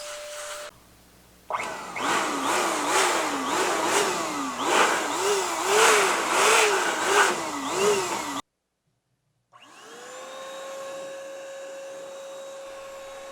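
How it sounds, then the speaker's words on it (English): A CompuCleaner 2.0 high pressure air duster blows loudly up close, its motor whine rising and falling in a repeated wavering pitch, then cutting off for a moment of silence before spinning back up to a steady whir. "So definitely a nice little powerful blower here. Do some more dusting around this."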